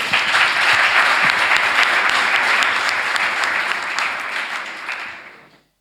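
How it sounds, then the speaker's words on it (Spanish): A conference audience at a round-table discussion applauds loudly and steadily, a dense wash of clapping that holds for several seconds before tapering off. "Un aplauso, por favor"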